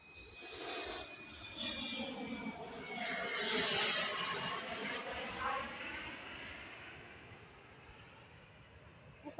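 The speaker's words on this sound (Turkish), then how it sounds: "kaçıncı uçak herhalde 10 tane oldu" An airplane passes overhead, its roar rising to a peak midway then fading into the distance, with birds chirping faintly.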